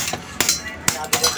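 Hammers pound on old TV circuit boards to break off ICs and heatsinks, sharp metallic strikes landing irregularly in quick succession, close and loud over a busy workshop background.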